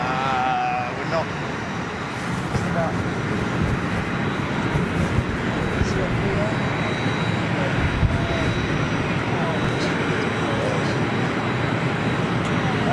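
A Boeing Dreamliner jet airliner moves near Concorde, producing a loud, steady engine roar that fills the whole stretch, with people talking faintly over it.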